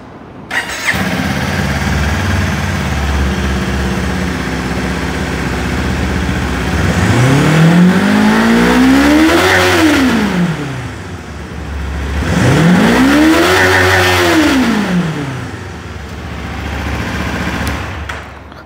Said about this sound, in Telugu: ఇప్పుడు ఒక్కసారి మనం ఎగ్జాస్ట్ సౌండ్ విందాము.